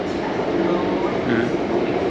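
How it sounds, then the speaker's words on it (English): A train arriving at a Bangkok platform rumbles steadily alongside it, a continuous low mechanical roar with some rattling, loud and close, with a faint voice underneath. "as I walked up to the platform, the train arrived"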